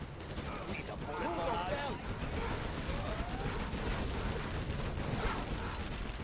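Gatling tank in a real-time strategy video game firing a bullet barrage as its gun barrel spins: a dense, continuous rattle of rapid shots and battle noise, with unit voice lines and a speaking voice over it.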